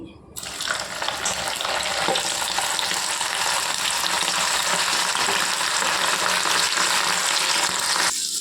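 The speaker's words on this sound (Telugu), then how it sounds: "చూడండి, లాస్ట్లో నేను కందనకాయలు వేపుతున్నానండి." Chicken gizzards fry in hot oil for eggless chicken pakodi, giving a loud, steady, dense sizzle that runs the whole time with no talk over it.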